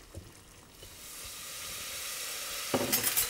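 White wine vinegar splashed into a hot pot of onion and bacon, setting off a rising, steady sizzle and hiss, with a brief stirring scrape near the end and no voices.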